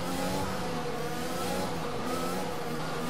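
An F1 race car engine in the Braking Point story mode of a racing video game, revving hard as an Aston Martin team car restarts: a loud, continuous high-pitched engine whine filling the short stretch.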